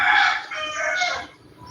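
A rooster crows loudly and close by in the morning, one strained, drawn-out call that fades at the end, with no other sounds around it.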